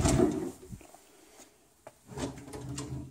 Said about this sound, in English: we had these drawers that pull out.